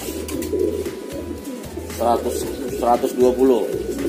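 Racing pigeons in a loft coo in low, throaty bursts, with a few louder rolling coos near the end over a constant hum of background noise.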